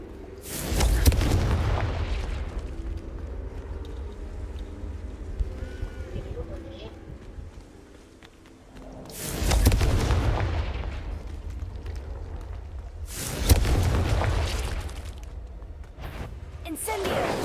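Confringo fire-spell explosions in the game Hogwarts Legacy burst out as three loud booming blasts spaced several seconds apart, each with a rumbling tail, over quieter game ambience.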